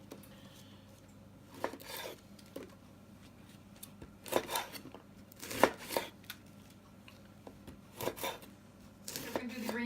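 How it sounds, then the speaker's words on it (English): A knife cutting vegetables for a skillet dinner, with scattered sharp chops and scraping strokes on a board at uneven intervals, close and fairly quiet. "I'll just cut it in half, throw it in there next to that, cut the end off, cut it in half."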